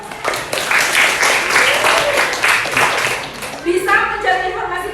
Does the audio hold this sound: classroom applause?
yes